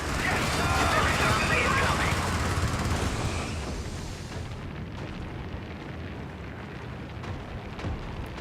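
Artillery barrage explosions in a video game, a heavy rolling roar of overlapping blasts that is loudest at first and then settles into a sustained low rumble, with a voice talking over it.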